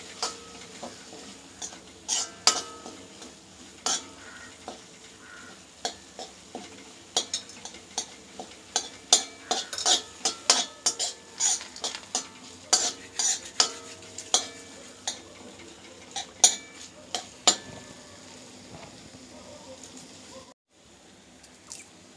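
Tomato and tamarind being stirred and sautéed in a pan for a mint pachadi, with steady sizzling under repeated close scraping strokes of a spoon against the metal, no talking.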